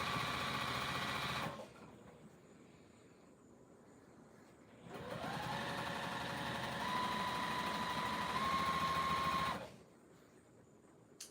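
A domestic sewing machine runs in two steady bursts of stitching, each a few seconds long with a pause between, the needle stopped down while quilting with binding; the motor hums close and fairly loud with a faint whine.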